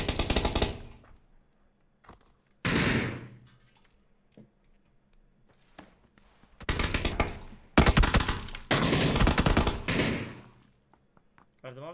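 Bursts of gunfire from PlayerUnknown's Battlegrounds, several loud broadband volleys in quick succession with gaps between, the densest clustered near the end, while voices talk over the game.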